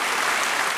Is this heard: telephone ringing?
no